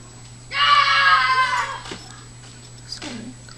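A neighbour's children let out a loud, shrill vocal cry for about a second, followed by fainter yelps and a short squeal over a steady low hum.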